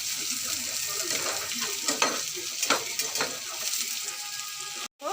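Ground spices with grated ginger being stirred and fried in a pan for a potato curry give a steady, close sizzle with scraping stir strokes throughout and a brief cutoff near the end.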